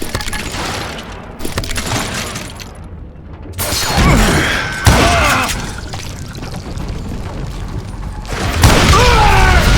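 Dynamite blows up in the Western shooter game Call of Juarez: Gunslinger, with heavy booming blasts, debris crashing and chaotic rumbling that swell through the middle and again at the end, loud and close among other game noise.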